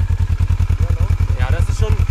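A motorcycle engine idles up close with a steady, even low thumping pulse. A voice speaks briefly over the running engine near the end.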